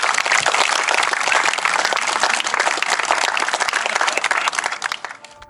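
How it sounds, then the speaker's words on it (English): Loud, enthusiastic applause from a crowd of Land Rover Series 1 enthusiasts outdoors in New Zealand, sustained for several seconds before tapering off at the end. "Give yourself a round of applause."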